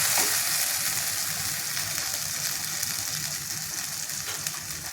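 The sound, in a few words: mushroom masala being sautéed in a pan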